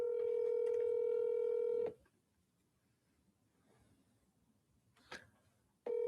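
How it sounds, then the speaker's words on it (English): A telephone call being placed: a loud steady ringback or dial tone for about two seconds, then a quiet gap with faint clicks and a brief tap, before the tone starts again at the end. "The phone is ringing now."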